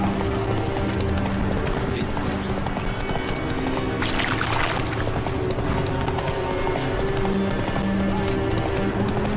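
Roach, Geralt's horse in the video game The Witcher 3, gallops with a steady, loud clip-clop of hooves under continuous game music and ambience, with a brief whinny-like burst partway through.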